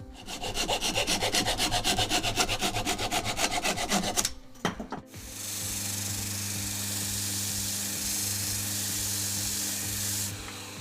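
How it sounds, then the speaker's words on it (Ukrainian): An Irwin handsaw cuts small wood scraps with a quick run of rasping back-and-forth strokes, close and steady, then a brief clatter and pause before a lower, even hum with faint scraping carries on to the end. "Дуже зручно обрізати ось такою ножівкою від Ірвин."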